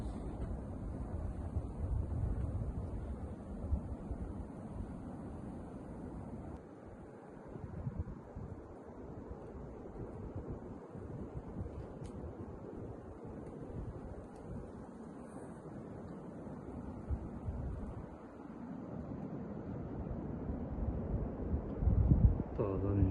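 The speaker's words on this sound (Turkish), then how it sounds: "rüzgar sesi ayrı bir orkestra." Wind blows steadily and roughs up the microphone, a continuous broad rushing noise with gusty swells, loudest near the end.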